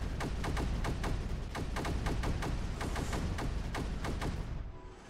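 A cannon in a strategy video game fires in a rapid, regular volley, a long string of evenly spaced punchy blasts filling the scene until an abrupt stop.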